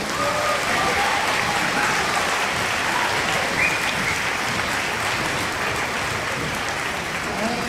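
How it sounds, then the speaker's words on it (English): An audience applauds steadily and loudly after a school musical program for grandparents and special friends, dense continuous clapping from a large crowd filling the whole stretch. "Let's give these students and teachers another round of applause."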